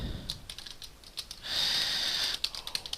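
Rapid clicking of keys on a computer keyboard while code is entered, close and fairly quiet, with irregular bursts of taps and a brief denser stretch of continuous clatter in the middle.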